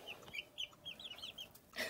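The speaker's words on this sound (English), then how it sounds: "let's film some chickens" Chickens cluck in a short series of close, chattering calls from a farm coop, growing birds restless and wanting out, with a brief louder burst at the end and no talking.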